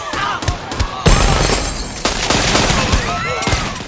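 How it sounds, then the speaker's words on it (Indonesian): Rapid gunshots crack out in bursts during a hotel shootout, loud and close, with overlapping shots and echoes filling the space as voices shout briefly underneath. "baku tembak pun pecah"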